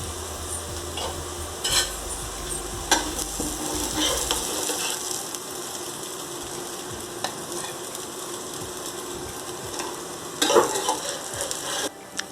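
Gram flour cutlets fry on a hot tawa with a steady close sizzle, broken by sharp scrapes and clinks of a spatula turning them, with no talking.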